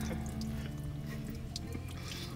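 Water is poured steadily into an engine's cooling system to flush it out, a continuous close splashing gurgle at moderate level with no speech.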